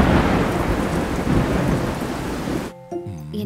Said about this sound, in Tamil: மழையும் கிழையுமா இருக்கு